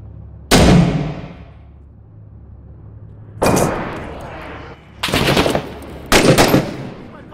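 Gunfire from the military shooter game Six Days in Fallujah, with loud close bursts: one sharp shot with a long decaying tail, then three more heavy bursts of rapid fire at spaced intervals, metallic and ringing.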